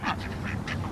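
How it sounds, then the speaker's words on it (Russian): Ducks quacking outdoors, about four quick nasal quacks in a burst, close and moderately loud over faint background noise. "Утки!"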